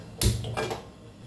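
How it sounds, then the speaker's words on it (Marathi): A kitchen gas stove is lit with a sharp ignition click and a brief whoosh, followed by a second softer click, close and fairly quiet. "आता मी गॅस पेटवते।"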